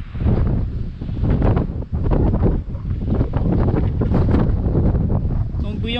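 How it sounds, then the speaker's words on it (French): Strong wind buffets the microphone in loud, gusting roars that rise and fall continuously. "beaucoup de vent"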